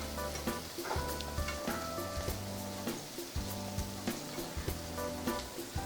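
Shrimp sear in a hot pan with a dense, steady sizzle, close up, punctuated by small pops and crackles throughout, with no talk over it.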